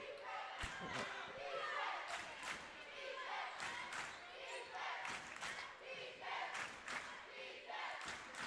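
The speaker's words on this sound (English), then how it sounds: "I love that the crowd is here for the girls too, Brad." Loud crowd noise in a gym at a high school girls basketball game, steady roar with ball bounces and thumps, shouts and scattered clapping, with voices talking over it.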